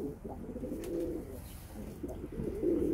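Pigeons let out soft, repeated low coos close by, several calls in a row over quiet background noise.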